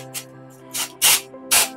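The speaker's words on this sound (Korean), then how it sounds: "이렇게 그냥 뿌리면 되거든요" Cooling spray for the scalp hisses out in short bursts, four puffs in under two seconds with the last two loudest, close to the mic over a faint steady hum.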